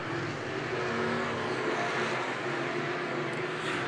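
Midwest modified race cars roar down the front straightaway at Cedar Lake Speedway, a steady loud engine drone filling the whole stretch as the field passes, with no voices over it.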